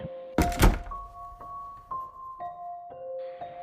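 A heavy thunk like a door slamming shut, loud and sudden, followed by a sustained background tone with soft pulsing beats.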